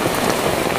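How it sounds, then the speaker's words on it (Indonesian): Heavy rain falls on a village in rural West Java, a loud, steady hiss of downpour drumming on surfaces close by, with no voices. "Hujan deras, sahabat ya."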